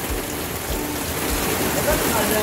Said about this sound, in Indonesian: Hujannya lumayan gede ya.